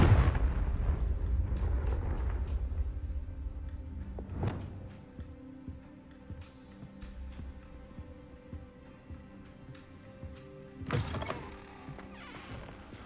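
A Confringo fire spell blasts in the Hogwarts Legacy video game: heavy booming impacts at the start, a sharper burst near the middle and another near the end, over a low mechanical rumble and faint music.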